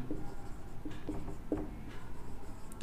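Marker or chalk strokes on a classroom board while a geometry problem is worked out, a series of short scratchy taps and squeaks spaced irregularly over steady room noise.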